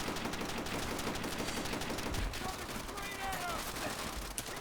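Dense, continuous gunfire from machine guns and rifles in the World War II shooter Call of Duty: World at War, with steady overlapping shots filling the whole stretch.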